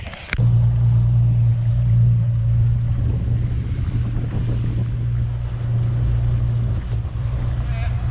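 A boat engine drones steadily as the hull moves through water, with wind and splashing over the low hum throughout.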